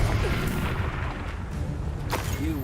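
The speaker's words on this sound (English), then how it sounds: "Confringo!" A Confringo fire spell blast in Hogwarts Legacy, a heavy low boom filling the short moment with dense rumble and a brief sharper burst near the end.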